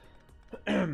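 A single short cough bursts out near the end after a quiet moment, close and fairly loud.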